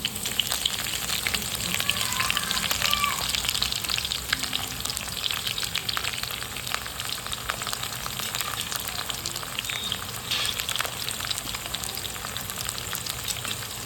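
Chopped onion fries in a mix of ghee and oil with cumin seeds and a bay leaf, making a close, steady crackling sizzle with fine spattering pops that stays even throughout, with no talking.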